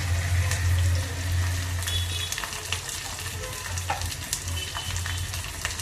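Green chillies fry in a pan for a raw prawn, mango and tamarind pulusu, giving a soft, steady sizzle with a few scattered clicks and clatters. A low hum runs underneath, stronger in the first couple of seconds.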